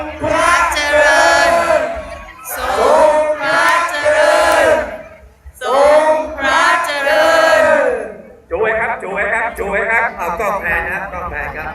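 A large crowd at a December 5 fireworks celebration in Thailand shouts 'long live the king' in unison, three loud drawn-out calls separated by brief pauses, then a continuing murmur and applause-like roar.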